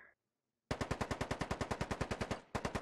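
Rapid automatic gunfire in the military shooter Squad: a loud, close burst of evenly spaced shots after a short silence, then a brief pause and more rounds.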